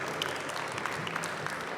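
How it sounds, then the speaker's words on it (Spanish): Audience applause for a speaker at a food-technology talk on cellular agriculture, a steady wash of clapping held at an even level throughout the short stretch. "Un aplauso para José."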